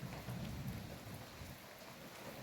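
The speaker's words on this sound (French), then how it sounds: "Oui, écoutez la pluie." Steady rain pours down outdoors, a dense continuous hiss with heavier low rumbling patter, close and even throughout with no voices.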